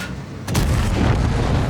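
A heavy artillery tank fires in a tank video game, one sudden deep boom followed by a rumbling, sustained low roar that stays loud to the end, with no voices.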